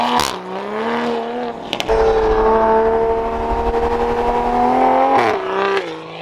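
A Lamborghini engine revs and accelerates loudly up close, its pitch climbing steadily, then briefly drops and surges again.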